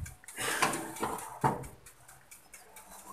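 A homemade mini pizza pan is pulled from an oven with metallic clanks and scrapes, a few sharp knocks of metal on metal over a quiet kitchen.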